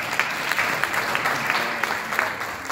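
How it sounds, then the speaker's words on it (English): An audience at a talk applauds, with many hands clapping in a steady, even wash and a few sharper claps standing out, moderately loud throughout. "give yourself a round of applause"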